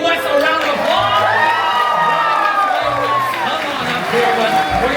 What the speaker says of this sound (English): Everyone give Wes a round of applause.